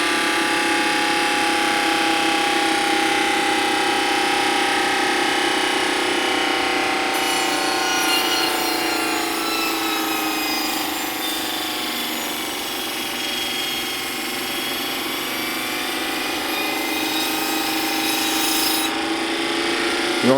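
Sandpaper pressed against the spinning motor of a Thunderbolt chopper, giving a steady high whirring, rasping hiss that runs continuously and loudly throughout, with its pitch shifting slightly partway through.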